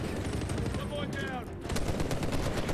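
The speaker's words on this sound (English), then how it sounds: "I'm just shooting through any kind of cover you think you have" Gunfire in the video game Medal of Honor Warfighter, a dense continuous burst of loud automatic shots with no gaps, close and harsh.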